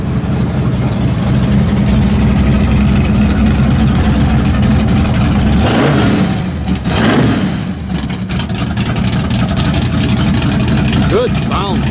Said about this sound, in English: It's got a set of electric cutouts in the exhaust.